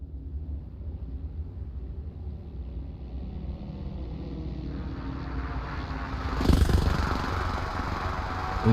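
An aircraft in the military shooter Arma Reforger flies in for a supply drop, a steady engine drone that swells louder and brighter near the end as it passes close overhead.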